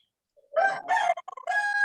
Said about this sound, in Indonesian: Ayam siapa nih?